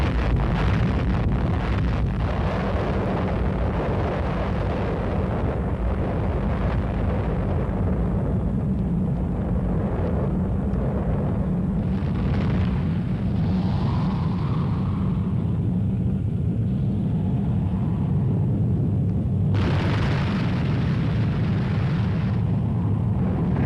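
An atomic bomb test detonation heard from trenches as a long, heavy roaring rumble with wind-like buffeting, sustained at high level, surging again near the end, with no voices.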